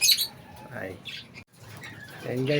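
Pet lovebirds at feeding time give bright chirps and calls in bursts at the start and end, while someone talks over them close by.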